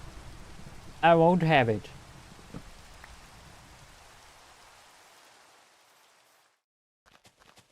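Steady rain falls in a video game for several seconds, a soft broadband hiss under a brief loud voice, fading away to near silence before a few faint clicks.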